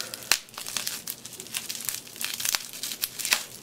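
Scissors snip through the packaging of a puzzle cube. Crinkly plastic rustles and there are several sharp cutting clicks, close and fairly soft.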